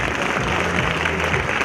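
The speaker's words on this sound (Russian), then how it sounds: "Громкие аплодисменты." A hall audience at a master's program evening event gives loud, sustained applause, a dense even wash of clapping from a large crowd.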